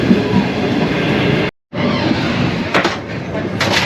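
Shalimar Express train running at steady speed on the rails, a loud continuous rumble and rattle from close by with a brief dropout partway through and faint clacking afterward.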